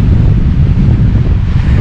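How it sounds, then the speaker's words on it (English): Ocean surf on a beach in Cabo, a steady low roar of waves rolling onto the shore, loud and close, with wind buffeting the microphone. "I love the sound of the waves crashing"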